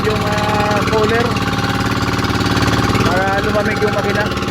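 A fishing boat's engine overheats while towing a heavy load at sea, giving a loud, steady, rapid chugging drone close by that runs without pause, with faint voices mixed in.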